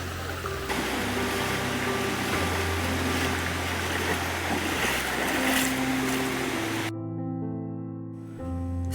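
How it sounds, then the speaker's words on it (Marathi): River water rushing at a stream crossing on a trek to a tall Sahyadri waterfall, a steady broad roar of flowing water with background music running under it. "या इथं पहिलं रिवर क्रॉसिंग लागलंय आणि अशा प्रकारे आपल्याला भरपूर रिवर क्रॉसिंग लागणार"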